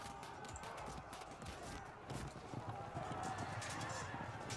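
Hooves clip-clop from nomad horse archers galloping in the strategy game Field of Glory II. The rapid, rhythmic thudding sits under a voice talking quietly, and it grows a little louder partway through.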